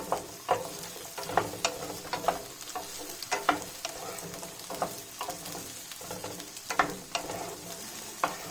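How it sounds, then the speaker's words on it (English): Okra sizzles and crackles in hot mustard oil while a utensil stirs and scrapes the pan in repeated sharp strokes, close and steady throughout. "I'm going to add the okra and stir fry it."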